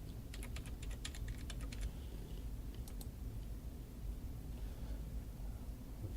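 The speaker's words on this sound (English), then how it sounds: "you can type that part number in." Part number being typed on a computer keyboard: a quick burst of light key clicks in the first two seconds and a few more near the third, faint and close over a steady room hiss.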